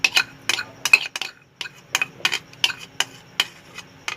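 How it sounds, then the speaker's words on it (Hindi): Potato being stirred with ketchup and mayonnaise in a bowl: a quick, uneven rhythm of about a dozen close, bright clinks as a spoon strikes the dish, with no talk. "अब हम केचप और जो है मायोनीज़ को मिक्स कर लेते हैं।"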